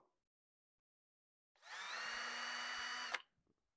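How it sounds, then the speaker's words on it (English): A power drill whirs steadily for about a second and a half while drilling a pilot hole for mounting a model railway backscene, then stops abruptly, with quiet silence before and after. "I'm just going to drill my first pilot hole."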